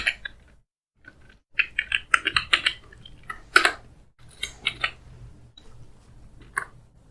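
JavaScript code is typed on a computer keyboard up close, crisp clattering keystrokes in quick uneven bursts separated by short pauses, with no talking.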